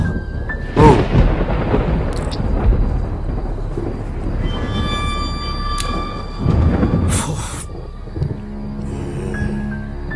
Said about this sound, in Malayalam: പറഞ്ഞ പോലെ ശരിയാ നല്ല മഴക്കോളുണ്ട് മഴയ്ക്ക് മുന്നേ ഞാൻ അങ്ങ് പോയേക്കാം